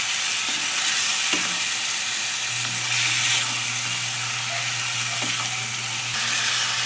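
Chop suey stir-frying in a pan with oyster sauce and soy sauce, a steady close sizzle with scraping stir strokes throughout, no talk.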